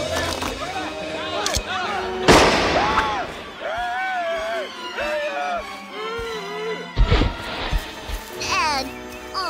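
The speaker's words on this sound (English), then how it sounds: "Johnson, you got that tranquilizer gun ready?" Tranquilizer gun shots in a Simpsons cartoon ring out as a few sharp, loud bursts spread among animated character voices and busy cartoon sound effects.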